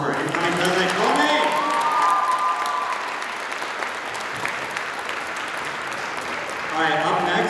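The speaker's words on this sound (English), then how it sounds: "One more time, a round of applause for our incoming president, Momi!" Applause fills the room at a gala as the crowd claps for an incoming president, steady and fairly loud, with a voice speaking over it at the start and end.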